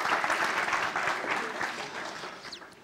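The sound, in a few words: congregation applause in church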